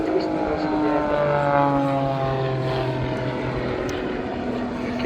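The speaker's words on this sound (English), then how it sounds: "we can use one jet engine on full power, the other engine on idle" Twin-engine jet aircraft performing aerobatics at the English Riviera airshow, a loud sustained engine drone with shifting pitch as it passes, while a commentator talks over it.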